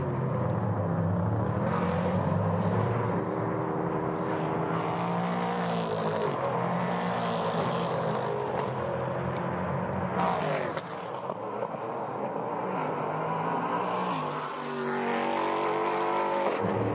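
Prototype race cars at the Norisring circuit, engines roaring continuously at close range with rising and falling revs as cars pass, loud and steady throughout with no talk over it.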